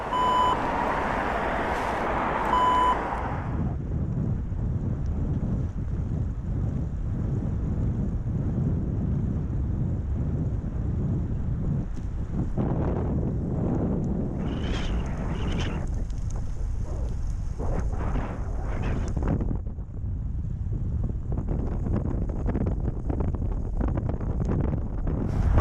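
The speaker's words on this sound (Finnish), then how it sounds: "Vasta tuuli on kova." A strong headwind on a bike ride on a rainy day buffets the microphone in a constant low roar, with a brief beeping tone near the start and some faint higher noises midway.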